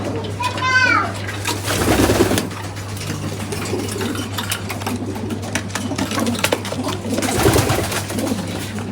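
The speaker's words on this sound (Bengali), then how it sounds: "তোর মধ্যে কিছু বাচ্চা কবুতরও আছে, সবগুলো বয়স্ক কবুতর না।" Racing pigeons in a loft coo close by, soft throaty bubbling calls repeating over a busy background, with a voice faintly audible at times.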